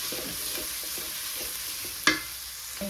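Onions frying with ginger and garlic for a pumpkin chicken curry, a soft steady sizzle with a few light stirring scrapes and one sharp utensil tap near the end.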